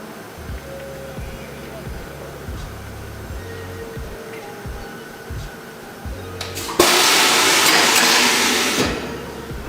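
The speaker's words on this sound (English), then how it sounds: "the black bladder is going to come down around the shoe and press it under a vacuum" A shoe sole press machine in a New Balance shoe factory runs with a faint background whir and a few rhythmic low thumps, then lets out a loud hissing rush of air near the end as it presses under vacuum.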